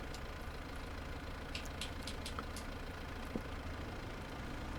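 A tractor engine idles steadily after starting in the video game Farming Simulator 25, a low continuous rumble with faint clicks on top, no speech.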